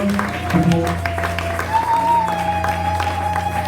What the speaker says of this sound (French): Acclamons encore une fois.